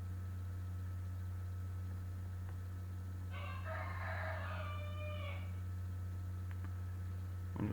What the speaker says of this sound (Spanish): Ya se despertó el gallo, ya desperté aquí a un gallo.